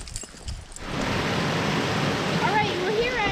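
Steady roar of a waterfall on a hiking trail, loud and close, broadband rushing water filling the scene after a brief quieter opening, with faint bird-like chirps above it near the end.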